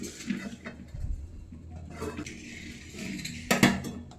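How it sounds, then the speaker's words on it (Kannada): A plate is set over a pan of bitter gourd as a lid, giving a few light clinks and scrapes of metal and ceramic, quiet and close, with small pauses between. "ಈಗ ಇದ್ರ ಮೇಲೆ ಒಂದು ಪ್ಲೇಟ್ ಹಚ್ಬಿಡ್ತೀನಿ ಸ್ವಲ್ಪ ಹೊತ್ತು."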